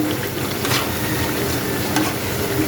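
Food frying in a pan, a continuous dense sizzle heard up close with occasional soft stirring clicks, no voices.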